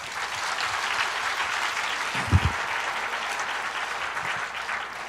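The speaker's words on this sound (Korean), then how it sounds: "박수하겠습니다" An audience at a Sunday church service claps steadily in a continuous, even round of applause with a few louder hits near the middle.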